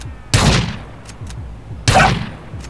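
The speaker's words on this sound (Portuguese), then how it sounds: "áudio da shotgun aqui" Two loud, sharp shotgun blasts from a GTA IV weapon sound mod for San Andreas ring out about a second and a half apart, each with a booming burst and a short decaying tail, plus faint clicks between.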